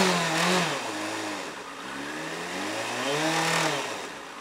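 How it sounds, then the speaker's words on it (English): A 2009 Yamaha FZ6 with its stock exhaust revs up and down several times, the engine pitch rising and falling in smooth swells, close by and moderately loud. "so just so you can hear the exhaust, I guess. It's a stock exhaust."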